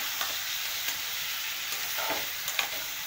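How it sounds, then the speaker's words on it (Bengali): Ginger-garlic paste sizzles in hot oil for a dhaba-style chicken curry, giving a steady close hiss with a few light stirring scrapes and no talking. "তো আমি এখন এই যে আদা রসুন দিয়ে দিচ্ছি।"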